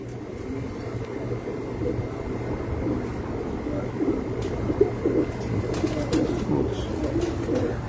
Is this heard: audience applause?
no